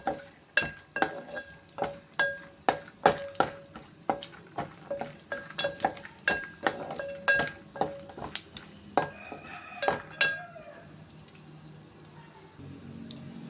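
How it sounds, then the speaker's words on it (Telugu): Almonds, cashews and pumpkin seeds fry in a pan with steady rhythmic stirring scrapes and clacks against the metal over a soft sizzle, which fades to quieter frying at the end. "ఇప్పుడు మనం ఇందులో జీడిపప్పు వేసుకుందాం, అలానే పంకిన్ సీడ్స్"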